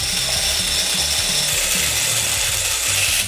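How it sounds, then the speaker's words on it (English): Plastic and metal beads fall through a sensory timer, a dense, steady rattle of tiny clicks like rainfall, close and continuous with no pauses. "As the plastic and metal beads fall from the top, they make a beautiful rainfall sound."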